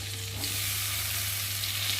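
A spice paste of turmeric, cumin, ginger, green chili and chopped tomato fries in a pan with a dense, steady sizzle close up, with no talking.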